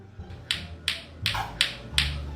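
Hard plastic lato-lato clacker balls clack together in a quick series of about six sharp knocks, close and slightly uneven in rhythm.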